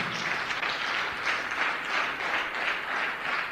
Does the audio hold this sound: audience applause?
yes